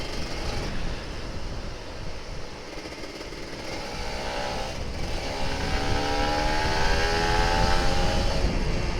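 Kawasaki Ninja RR 150 motorcycle on a morning ride, with a steady engine drone and wind rush that rise slightly toward the end, while a rising engine tone builds in the second half. No one talks.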